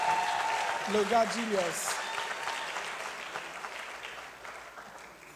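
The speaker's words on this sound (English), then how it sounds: "So let's clap for our project lead" An audience claps for a project lead at a Mastercard Foundation event at KNUST, with steady applause under a voice speaking briefly early on, then fading gradually.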